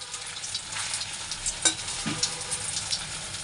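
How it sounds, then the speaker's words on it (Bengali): Soybean and besan muitha dumplings frying in hot oil, giving a steady close sizzle with a few brief spoon or pan knocks, no voices. "তো আমার এখানে মুইঠা ভাজা হয়ে গেছে"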